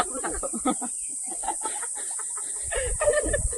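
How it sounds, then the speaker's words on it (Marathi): A rooster flaps and clucks close by in a rural Konkan yard, short bursts of wingbeats and clucks over a constant high insect drone. "तो उडताय कोंबडा"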